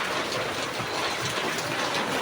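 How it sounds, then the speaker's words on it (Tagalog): Rain falls in a steady, dense hiss, loud and close, with no pauses or voices over it. "Na ulan. Ulan guys."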